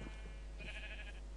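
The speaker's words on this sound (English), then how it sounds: "Oh yes, and I can lure the sheep over as well." A sheep in the video game Minecraft gives one short, soft bleat, quiet and alone with no talking over it.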